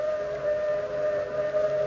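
A steam train whistle in an old-time radio drama sounds as one sustained, steady tone that holds for the whole stretch, eerie and siren-like, heard alone without any talk.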